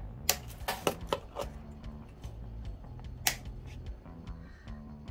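Guitar strings being clipped with cutters, a series of sharp, close snips and small metallic clicks spaced irregularly over quiet background handling noise, no talk.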